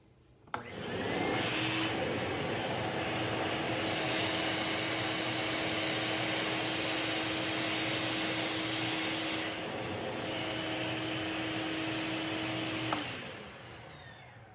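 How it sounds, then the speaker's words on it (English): A vacuum cleaner starts abruptly and runs with a loud steady roar and high whine while sucking twine through a wiring hole in a 2022 Indian Pursuit motorcycle handlebar, then cuts off near the end. "I'm just going to hook up my vacuum right to here and suck this twine"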